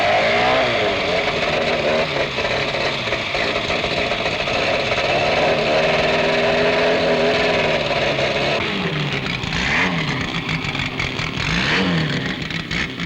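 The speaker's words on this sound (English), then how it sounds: "the misty surrounds are thickened by cold engines, voicing their disapproval as carburetors are choked into action" Cold race car engines in a misty paddock at a 1970s autocross, choked carburetors grumbling and revving unevenly, a steady loud drone with rising and falling engine pitch throughout.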